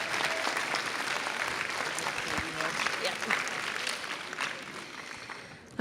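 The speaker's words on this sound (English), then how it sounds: "one more round of applause" Sustained steady applause from a crowd of families, friends and neighbors at a school board meeting, honoring students, dense and even throughout.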